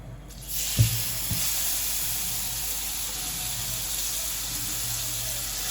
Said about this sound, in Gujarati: ઝીણા ઝીણા સમારી દીધા છે ચીકુને અને હવે એને આમાં શેકી દેવાના.